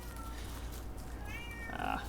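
A bored pet cat meows indoors, giving a couple of thin, rising cries over a low background hum, moderately close and fairly quiet.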